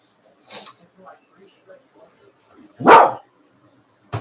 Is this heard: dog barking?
yes